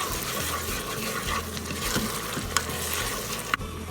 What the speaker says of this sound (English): Now we'll stir to combine all of those.